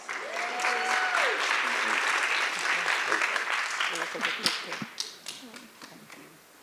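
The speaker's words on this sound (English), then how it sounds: "Let's give vets another round of applause." A room at a city advisory board meeting breaks into applause, loud at first and then thinning to scattered claps, while a voice speaks over it.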